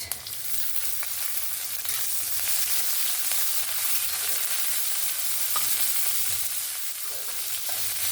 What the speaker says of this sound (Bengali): পেঁয়াজটাকেও ভেজে নেব সুন্দর করে।